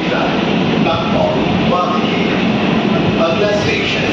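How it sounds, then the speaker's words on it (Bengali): Kolkata underwater metro train pulling away toward the next station, a loud steady rumble and rolling rail noise with faint tonal whines, heard from inside the car with talk under it. "মেট্রো রওনা দিয়ে দিয তার পরবর্তী স্টেশনের উদ্দেশ্যে"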